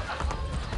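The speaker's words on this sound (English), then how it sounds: "Big horse coming through" Hollow hoof clip-clops from a trotting horse in the video game Assassin's Creed: Brotherhood, close and steady, with a soft background hum.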